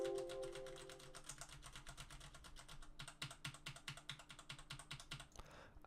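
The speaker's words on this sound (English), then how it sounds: "So all your keyboard typing and everything." Rapid keyboard typing, crisp clicking keystrokes in quick uneven bursts, close up and fairly quiet, with a faint hum at the start.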